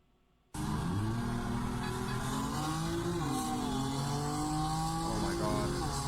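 Race car engine recorded onboard during a race: a loud, continuous drone that cuts in abruptly after a quiet half-second, its pitch rising and dipping with the revs.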